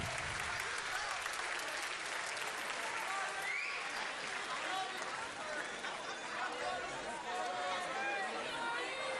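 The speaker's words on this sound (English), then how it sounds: "let's all give a round of applause to the 8th grade as they say goodbye" A large middle school audience applauds departing 8th graders at an outdoor moving-on ceremony, continuous loud clapping mixed with cheers and crowd chatter throughout.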